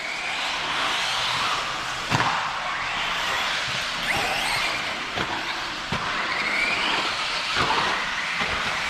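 A 1/8-scale Arrma RC truck running on a Traxxas speed control and Big Rock 3S BLX setup, driven at light throttle around a track, gives a steady whirring motor drone with sharp clacks as it hits bumps, close by with no speech.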